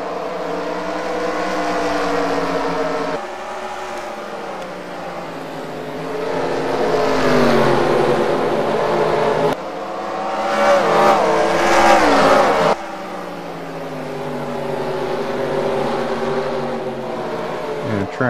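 Race cars thunder around Bristol in a Carsland Cup Series game race, with engine drones rising and falling in pitch as cars pass close and loud and a commentator talks throughout.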